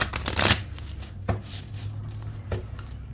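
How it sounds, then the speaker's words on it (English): A deck of gilt-edged oracle cards is shuffled by hand in a few quick riffling bursts, close and crisp, with soft rustling between them and no talk. "Let's give it a shuffle and see what we get."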